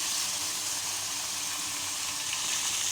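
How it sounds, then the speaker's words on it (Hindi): Onions sizzle steadily in a hot pan while spice mix goes in for a zucchini-style turai sabzi, a close, even hiss with a faint scrape. "अब ये प्याज जो है फ्राई हो चुकी है, तो अब मैं इस पे अब ये सारा मसाला डाल दूंगी"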